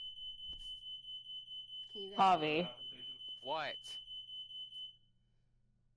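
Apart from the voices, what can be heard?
fire alarm going off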